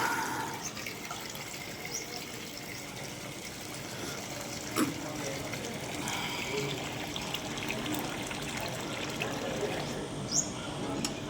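Water from a bucket pours over a Basava bull idol in a ritual bathing, a continuous, even splash, a soft steady stream with a couple of brief louder spatters.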